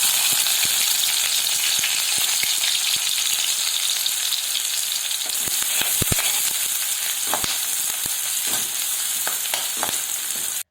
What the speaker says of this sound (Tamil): ஒரு சட்டியில் ஒரு 3 ஸ்பூன் எண்ணெய் விட்டு கடுகு, கருவேப்பிலை, நறுக்கின வெங்காயம் எல்லாம் போட்டு வதக்கிக்கிடலாம்.